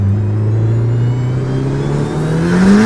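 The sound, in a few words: Honda Civic 400 HP engine revving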